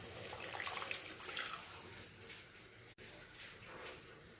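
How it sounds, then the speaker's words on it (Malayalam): Milk pours into a pan of carrot halwa with a soft, continuous splashing gush, fairly close and moderately loud, briefly interrupted once before the pouring resumes. "ഇനി കുറച്ച് പാല് കൂടെ ഒഴിച്ച് കൊടുക്കാം"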